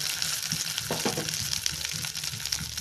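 Urad dal and about ten garlic cloves fry in a pan for chutney, giving a continuous close sizzle with soft stirring scrapes and crackles.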